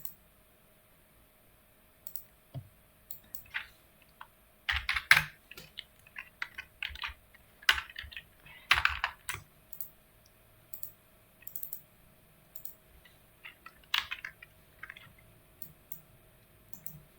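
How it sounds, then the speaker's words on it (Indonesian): Quiet computer keyboard typing while drafting a house floor plan in AutoCAD 2022: short, scattered clusters of light key clicks and taps separated by pauses, close but faint. "kita ketik mtext lagi"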